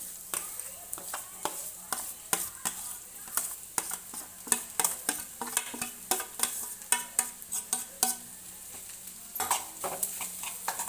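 Mashed boiled potato being added and stirred in a frying pan, a quiet home-kitchen scene of repeated spoon scrapes and knocks against the pan over a faint sizzle, irregular and close.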